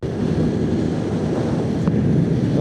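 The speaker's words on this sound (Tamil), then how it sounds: "இப்போ காற்றெல்லாம் பலமாக அடிக்குது" Strong wind buffeting the helmet microphone of a rider on a Bajaj NS200 motorbike, a loud continuous low roar with gusty rumble and no speech.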